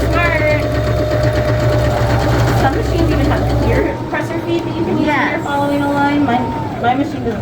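A sewing machine hums and whirs steadily for a few seconds before stopping, while a person talks over it throughout.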